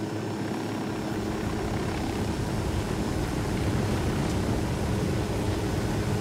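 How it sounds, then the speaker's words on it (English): Helicopter flying in the video game Ghost Recon Wildlands, a steady dense rotor and engine drone holding at an even level throughout, with no talking. "Expert chopper pilot."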